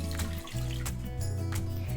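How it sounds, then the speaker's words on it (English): A cup of water pours into a butter mixture for a chocolate sheet cake, a close, continuous trickle and splash with gurgling tones running steadily, briefly dipping midway, then continuing. "Then you're gonna add in 1 cup of water to this mixture."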